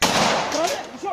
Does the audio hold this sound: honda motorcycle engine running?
no